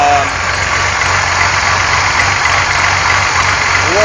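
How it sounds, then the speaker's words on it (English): A Thunderbird engine idles steadily during its break-in run, a loud, close mid-pitched rumble with a faint knocking pulse and no speech over it. "now we're going to drop off the idle a little bit as the engine does this thing here"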